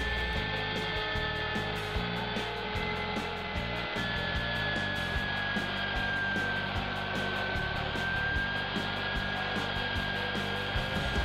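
A CNC router V-carves a ship design into a wooden board, its spindle giving a steady high whine over a constant mechanical drone with faint rhythmic stepping from the moving axes throughout, no talk.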